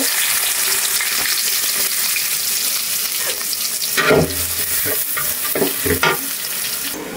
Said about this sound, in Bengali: মাছ ভাজা তো শেষ, এখন এই তো মাছটা বসিয়ে দিব